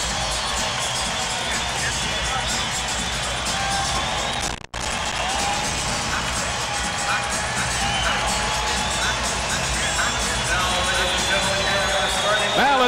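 Arena crowd roaring and cheering before a 1994 NBA playoff first-round game between the Houston Rockets and Portland Trail Blazers, a dense, steady wall of noise from start to finish, broken by a single sharp dropout partway through.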